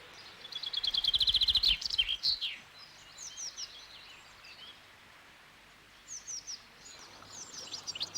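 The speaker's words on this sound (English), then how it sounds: "It's the commonest of our finches and has a bright, brief, cascading song." A small finch sings one bright, brief cascading phrase, a fast run of high notes up close, followed by fainter scattered twittering and a few more short bursts over a quiet rustling outdoor background.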